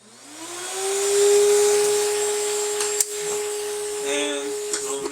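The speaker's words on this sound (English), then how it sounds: "let's turn on the suction." A dental suction unit switches on while dental dies are trimmed, its whine rising quickly to a loud, steady drone, with brief taps and clatter near the end.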